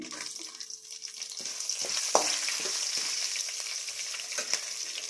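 Green chillies frying in a pan of oil with urad dal and chana dal, a steady close sizzle with occasional sharp pops and stirring scrapes throughout.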